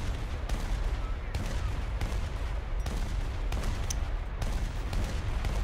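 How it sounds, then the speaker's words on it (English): An SU-25 attack jet fires its guns in the War Thunder combat game: repeated sharp bursts of gunfire over a constant loud roar, with cracks landing roughly every second. "he gets an SU-25, and then he starts shooting at aircraft that he doesn't lock onto"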